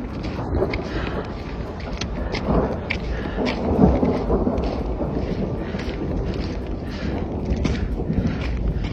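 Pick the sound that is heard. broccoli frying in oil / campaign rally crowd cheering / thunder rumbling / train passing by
thunder rumbling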